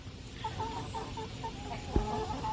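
Chickens cluck in short repeated notes around a backyard roost and nesting box, moderately close, with one louder sharp knock partway through and no talking.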